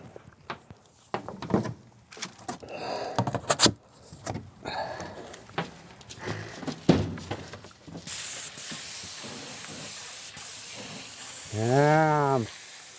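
An airless paint sprayer fitted with a 515 TR1 tip sprays steadily while a house is painted outdoors, a loud continuous hiss that starts abruptly partway through after quieter handling noises and lasts to the end.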